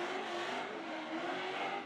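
Supercharged burnout car at Summernats, engine held at a steady loud roar with slight on-off throttle fluctuation, mixed with tyre noise, continuous and close with no talk.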